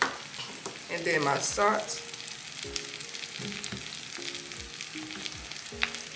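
Steak frying in a pan on a dorm-room stove, a steady crackling sizzle running throughout with brief stirring clatter, while someone talks briefly over it.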